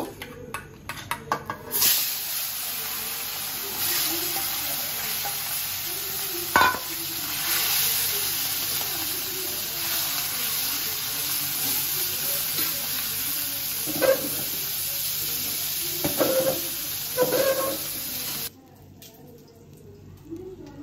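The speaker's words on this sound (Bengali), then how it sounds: "এখন মাছটা ভেজে নিব।" Fish coated in turmeric and salt frying in hot oil, a steady loud sizzle with occasional clinks and stirring scrapes, continuing for most of the stretch before cutting off near the end.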